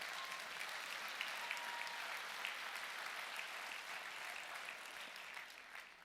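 Audience applause at a talk on love and marriage: a steady, dense patter of clapping from a crowd, heard at a distance and fairly faint, tapering slightly toward the end.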